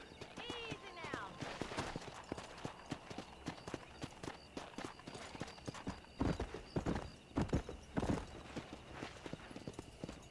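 Horse hooves clip-clop in a steady rhythmic gait in the Red Dead Redemption video game, with a brief whinny near the start and heavier hoof thuds later, while someone speaks over the sounds.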